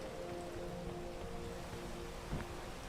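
Steady rain falls in the video game PEAK, a dense, even hiss of drops that continues without a break, with a soft low rumble beneath it.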